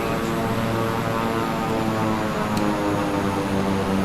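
A propeller airplane engine drones steadily on approach in Flight Simulator, a loud, constant hum with layered tonal whine and no break in the sound.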